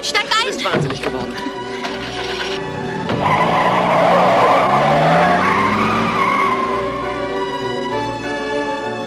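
Car accelerating away in pursuit with tires skidding and squealing, a loud screech followed by a rising engine roar that settles into steady driving; people talk over the start.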